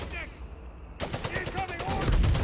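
A .30 cal machine gun in Company of Heroes 3 fires a rapid rattling burst of closely spaced shots that continues steadily to the end, alongside other battle noise in the game.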